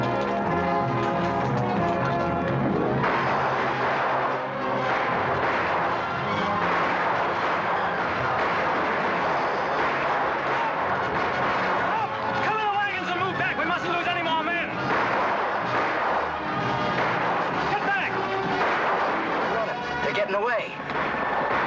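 Gunfire rattles through a colorized old western film's cavalry ambush, dense bursts of shots mixed with shouting voices, hoofbeats and a swelling orchestral score throughout.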